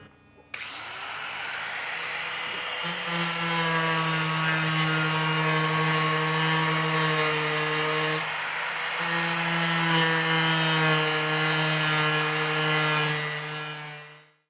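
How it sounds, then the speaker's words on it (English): Power tool with a shaping disc grinding Bondo filler on a kit boat hull of laminated foam, a steady loud whirring with a strong tonal hum, close by, continuing for over ten seconds before winding down. "Brian's up there with the Bondo shaping disc, and Bondo shaping."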